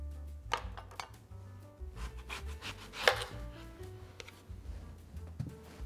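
A large onion cut with a knife for roasted vegetable pasta, a few quiet scattered knife strikes and rubbing on a board, one sharper crunch midway, faint and close.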